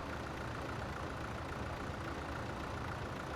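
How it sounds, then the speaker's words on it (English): A yard tractor's engine idles in Farming Simulator 17, a steady, unbroken low rumble held at an even level throughout, with no voices. "This is more of a yard tractor."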